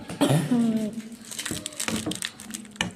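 A crinkly instant noodle packet is crushed and crackles in short bursts, mixed with brief vocal sounds close by.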